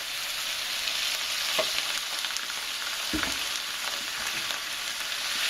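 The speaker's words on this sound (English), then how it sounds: "Then I'm going to add maybe a tablespoon or so of soy sauce." Cabbage and bacon sizzle steadily in a hot wok as light soy sauce goes in, with a continuous broadband frying hiss and a few soft stirring clunks, close and loud, with no talking.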